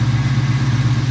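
A car engine idles after a 78mm BBK throttle body install, a steady low rumble with a rapid, even pulsing, loud and close.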